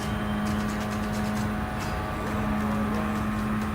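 Mazda RX-7 FC racing GT500 cars on Route X in Gran Turismo Sport, a steady droning engine with a constant whine and dense road noise, unbroken and without talk.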